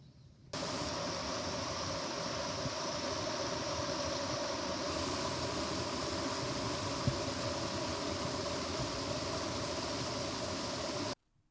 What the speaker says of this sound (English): I got to go to a river and hear the water running.